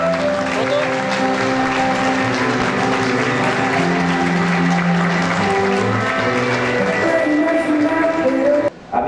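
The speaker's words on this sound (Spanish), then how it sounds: "Con un fuerte aplauso la recibimos." Loud, sustained applause from an audience welcoming a guest at an evening event, thick clapping mixed with cheering and a murmuring crowd, continuing for about nine seconds before a brief dip at the end.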